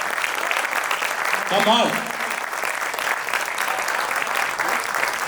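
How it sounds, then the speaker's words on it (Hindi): An audience at a Hindi poetry recital at Chandigarh University breaks into applause, a sustained wash of clapping from the crowd with a brief spoken exclamation rising over it. "एक साथ ताली बजाइए अब तक।"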